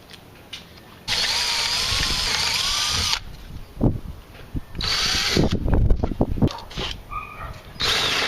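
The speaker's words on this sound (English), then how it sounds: "so I'm going to go ahead and drill those holes." A power drill whines in two long, steady runs, followed by scraping, clunking handling noises and short bursts as the bit works through metal quarter panel guards on a Jeep Cherokee XJ.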